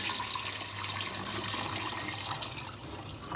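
Tap water pours steadily into a big pan for a bouillon made with garlic, a soft, even rush of running water with no talk over it.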